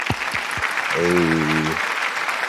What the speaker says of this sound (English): We need to put the little clap.